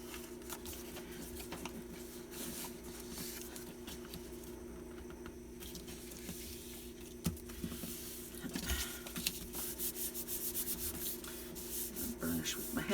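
Hands rub glued paper flat in a tracker journal, a steady soft sanding-like swishing that runs throughout at close range and grows busier toward the end.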